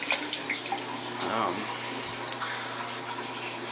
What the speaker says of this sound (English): into the water just coming out of that drain pipe, because it really flows pretty hard